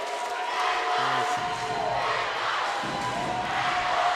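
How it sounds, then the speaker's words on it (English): A volleyball crowd in a gym at Boyd versus Floyd Central chants in unison for their team, rhythmic massed voices echoing through the hall with a few sharp thumps and a constant crowd murmur underneath. "Chanting for their team, getting this crowd's getting into it"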